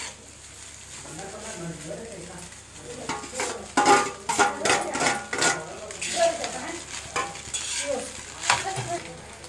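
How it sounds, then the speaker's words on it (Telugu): Street-style egg fried rice is tossed and stirred over a high flame, with rhythmic metal scraping, clatters and sizzling bursts while a person talks over the cooking. "ఇలా హై ఫ్లేమ్లో ఉంచుకొని ఫ్రై చేసుకోవాలండి"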